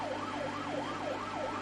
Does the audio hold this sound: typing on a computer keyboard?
no